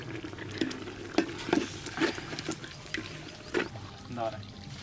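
Garlic sautés in oil for a Tamil dried bat-fish curry, soft sizzling broken by scrapes and clinks of stirring, close and moderately quiet.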